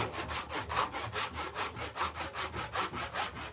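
A hand saw rasping through a maple crotch log in a steady back-and-forth rhythm, about four strokes a second, close and alone.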